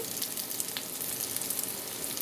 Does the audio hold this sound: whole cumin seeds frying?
yes